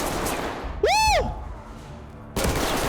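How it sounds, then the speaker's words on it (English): Gunfire from an enemy shooter in the tactical shooter game Ready or Not: a loud whooshing, ricocheting burst in the middle, fading away, framed by steady background noise before another loud onset near the end. "I don't know where he's shooting from."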